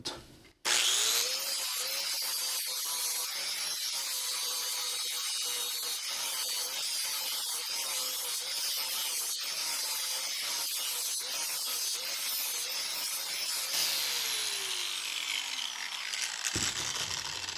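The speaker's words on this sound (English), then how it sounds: "as you start grinding this, you want to use the tip, and you're going to try to stay above the weld" A handheld grinder works a homemade coilover strut just above the weld, making a loud, steady, harsh whine and rasp that runs almost unbroken with small pitch shifts, then drops away abruptly near the end.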